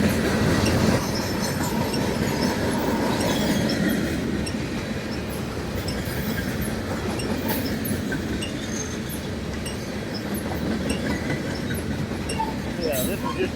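A CN train with coil cars rolls steadily past nearby on the main line in Vaughan, Ontario, with a continuous rumble and rattling of cars, faint squeals rising now and then, and voices murmuring underneath.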